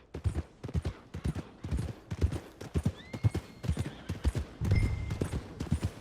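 A horse in Red Dead Redemption II clip-clops in a steady rhythm of hoofbeats, with a whinny rising in the middle and again later, close and clear.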